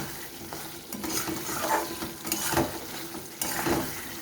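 Potato and pointed gourd cook in spiced oil in a pan, with a steady low sizzle under a few slow scraping stir strokes close by; no talking.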